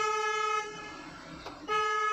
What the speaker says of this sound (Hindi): सामने से गाड़ी आ रही है, हॉर्न दीजिए।